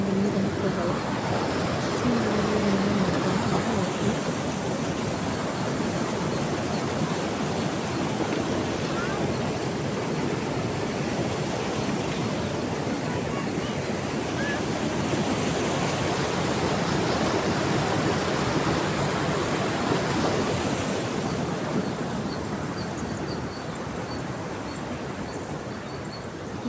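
Rushing water pours through the KRS dam in a dense, continuous roar that stays loud and even for the whole stretch, with no pauses, fading slightly toward the end.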